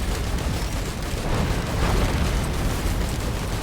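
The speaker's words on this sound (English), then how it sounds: "And it's another magma worm." A magma worm boss erupting in Risk of Rain 2 gives off a loud, steady roaring rumble with a crackling, explosive texture that holds at full strength throughout.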